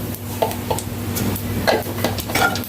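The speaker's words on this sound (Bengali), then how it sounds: "এবার কড়াইতে যে তেল আছে ওই তেলের মধ্যে আমি একটু দিয়ে দিলাম কালো জিরে ফোড়ন।" Black cumin seeds sputter in hot oil in a wok, making a crackling sizzle with short pops and scrapes of stirring.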